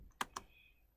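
Quick keystrokes on a computer keyboard, two crisp clicks close together followed by a pause and a final tap, quiet and close in an otherwise still room.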